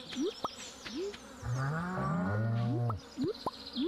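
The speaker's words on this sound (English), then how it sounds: "Hello, Gouda the cow" A cow moos in the Stardew Valley farming game, one long drawn-out low lowing in the middle, framed by short rising chirpy game sound effects before and after.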